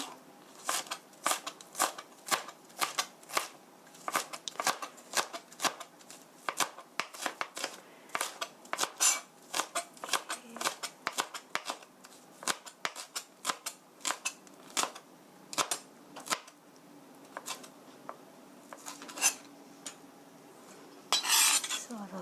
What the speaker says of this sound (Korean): 대파 뒤집어서 썰면 잘 썰어지니까 이렇게 해서 송송송 썰어 주시고요